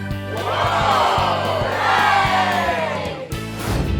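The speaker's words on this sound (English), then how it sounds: "the whole family clapped and cheered" Cartoon family of pigs cheering and whooping together over a Lego castle, a loud, close burst of excited voices layered over bright, bouncy background music.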